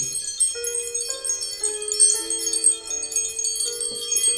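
A bright bell rings out in a series of clear, sustained tones at shifting pitches, moderately loud against a faint background.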